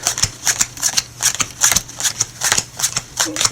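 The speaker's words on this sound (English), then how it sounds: "they deal the cards any way they wish" Playing cards are dealt into piles on a table with quick, regular papery snaps in a steady rhythm, close and fairly loud.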